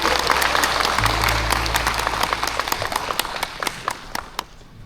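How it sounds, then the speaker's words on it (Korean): An audience at a regional talent achievement-sharing ceremony gives loud sustained applause over background music, the clapping turning into separate, spaced claps as it dies down. "다시 한번 큰 박수 부탁드리겠습니다"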